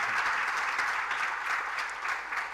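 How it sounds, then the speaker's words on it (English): Brief, even round of audience applause for two panelists at a Redis 2025 conference, steady clapping throughout. "let's give a round of applause to our 2 panelists"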